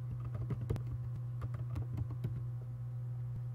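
Someone types a search on a computer keyboard, giving a quick run of faint, close key clicks over a steady low electrical hum.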